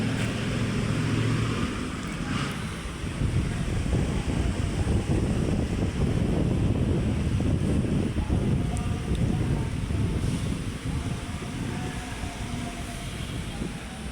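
Wind sweeps across the sea at Manila Bay, driving waves in a steady, loud, continuous broadband wash that lasts throughout, with no voices.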